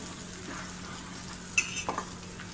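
Spoon stirs coriander powder and Kashmiri red chilli into a sizzling kaju curry in a pan, with a soft steady fry, then a few louder scrapes and clinks near the end.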